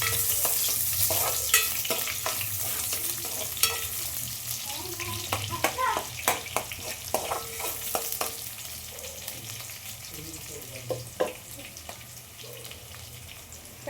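Onions hit hot oil for a chicken curry and fry with a broad, steady sizzle, with stirring clatter and small pops scattered over it, all close by.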